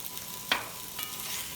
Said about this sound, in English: I'm going to add some olive oil to this to get it sizzling again.